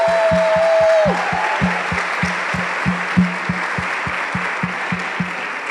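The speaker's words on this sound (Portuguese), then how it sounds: "Palmas para nós." An audience at a women's church gathering claps together in a steady, evenly spaced rhythm, loud and close, after a brief fading tone at the start, with no talking over it.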